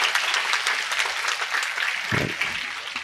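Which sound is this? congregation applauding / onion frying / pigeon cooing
congregation applauding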